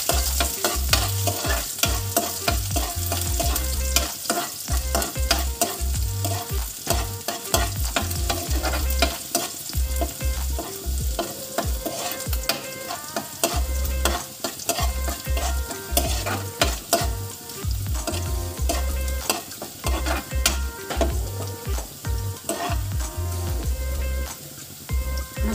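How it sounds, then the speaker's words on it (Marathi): Chopped ginger and garlic sizzle and fry steadily in hot oil while being stirred, for a restaurant-style chicken chilli; a continuous loud crackling hiss with the scrape of a spoon and no talking. "याच्यात आता आपण अद्रक चॉप केलेलं टाकू आणि लसूण टाकून घेऊ"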